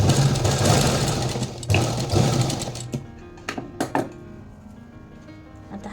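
A sewing machine stitching katori tucks on a blouse, running in a fast continuous whir for about three seconds with brief pauses, then stopping and giving a few short bursts.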